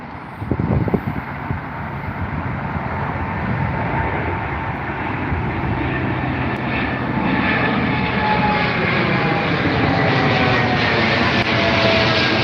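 A Boeing 787 Dreamliner airliner passing at Heathrow, a loud, sustained jet roar with a slowly shifting engine whine that builds and holds close by throughout.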